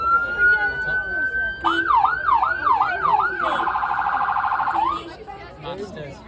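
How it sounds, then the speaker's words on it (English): A police car siren, close and loud, rises in a long tone, then cycles through wailing sweeps before switching to a rapid yelp and dropping off, with faint talk around it. "We've mastered the arts of sirens."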